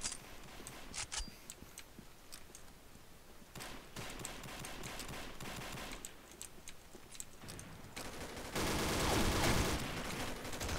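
Gunfire from a gun in the video game Combat Arms comes as sharp, rapid shots and short bursts scattered through the clip. A dense, louder stretch of shooting comes near the end.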